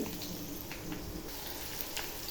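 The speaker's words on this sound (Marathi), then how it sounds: "कांदा टाकल्यावर मस्त मध्ये कांदा फ्राय करून घ्यायचा" Onion in hot oil in a kadhai with curry leaves sizzles softly and steadily, a quiet continuous frying hiss with faint crackles and no talk.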